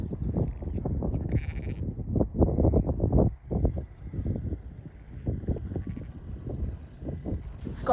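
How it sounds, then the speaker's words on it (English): Sheep, ewes and lambs being gathered, bleating repeatedly in overlapping calls of varied pitch, fairly close, with light wind buffeting the microphone. "so I'm just away around gathering these ewes and lambs"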